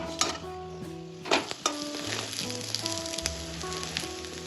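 An aloo kulcha fries in butter on a pan, giving a constant close sizzle broken by a few scraping stirs and pan knocks, with no talking.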